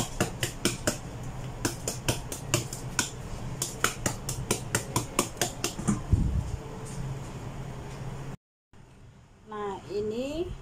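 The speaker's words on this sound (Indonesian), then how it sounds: "bisa dengan cara dipotong dulu tipis-tipis, baru dipotong lagi" A knife chops young green papaya for a salad in quick, steady, evenly spaced taps. The chopping runs for several seconds, then stops, followed by a short stretch of quieter room noise.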